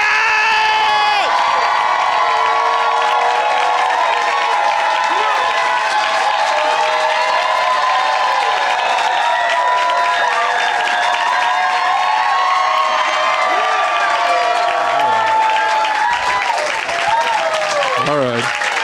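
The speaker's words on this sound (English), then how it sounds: "Start clapping now for Mr. Wyatt" A comedy club audience applauds and cheers loudly as a comedian is brought to the stage, with dense sustained clapping, whoops and shouts throughout.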